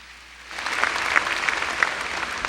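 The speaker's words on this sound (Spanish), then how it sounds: "Vamos a darle un aplauso al Señor" A church congregation breaks into applause during a service, the clapping swelling in after a brief quiet start and continuing as an even, full wash of hands.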